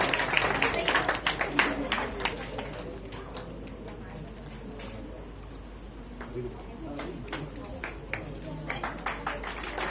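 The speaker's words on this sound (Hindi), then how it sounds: "जोरदार तालियों से स्वागत करें" Audience applause welcoming the recipient of a best IT researcher award at a ceremony, with bursts of clapping at the start and end, a quieter stretch between, and voices talking underneath.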